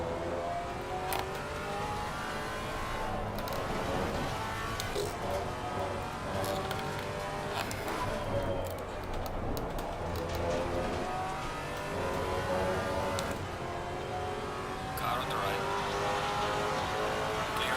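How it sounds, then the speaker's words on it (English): Race car engines from Assetto Corsa Competizione, heard from a Maserati GT4 at Misano: a steady roar of revving motors with gear changes and rising, falling pitch as cars run close, with occasional faint background voice. "Faster car is approaching."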